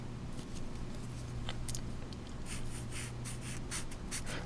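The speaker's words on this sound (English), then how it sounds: "I can make a mark on the paper" A pen marking paper, soft scratchy strokes coming in short bursts and repeated quick scribbles over a steady low background hum, close and fairly faint.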